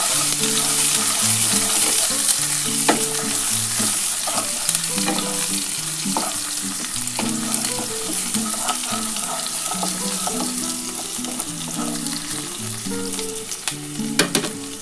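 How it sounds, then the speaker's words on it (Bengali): Onion, dried red chillies and spices frying in a pan for masoor lentil dal, a steady loud sizzle with repeated scraping stirs and clinks of a spoon against the pan throughout. "অল্প একটুখানি ভেজে নেব"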